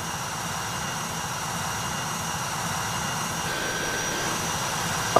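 A jet aircraft engine in the Falcon BMS 4.33 flight simulator gives a constant, loud roar with a whining hum. It carries on unbroken for the whole stretch with no speech.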